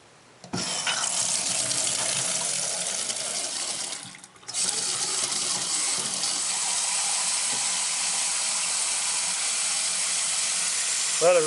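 Water gushes from a freshly repaired Price Pfister kitchen faucet into a sink: a loud, steady hiss starts abruptly, briefly drops away, then resumes and runs on unbroken.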